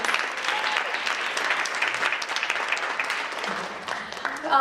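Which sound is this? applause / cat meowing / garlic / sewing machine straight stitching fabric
applause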